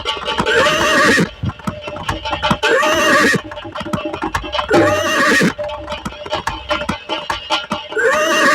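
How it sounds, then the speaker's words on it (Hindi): Horse hooves clip-clop in a steady beat while the horse gives loud, repeated whinnies, close and prominent throughout. "इस घोड़े की टाप सुनाई दे रही है, लग रहा कोई आ रहा है"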